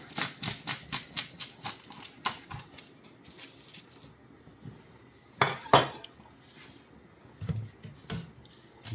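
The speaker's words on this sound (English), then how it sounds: "I'm going to cut this garlic" A kitchen knife halves a garlic bulb on a board with a quick run of sharp, evenly spaced taps, then a pause and a few louder cracks and knocks close by.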